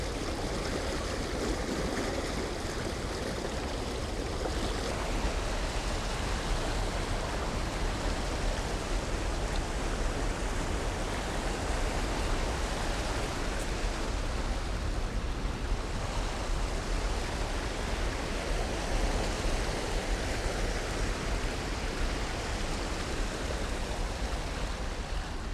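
Steady broadband rush of the Rhine flowing along a riverbank, continuous and fairly close for the whole stretch with no voices.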